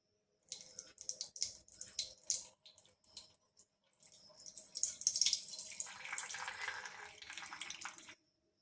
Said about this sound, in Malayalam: അപ്പോൾ ആ വെള്ളം നമുക്കൊന്ന് കളയാം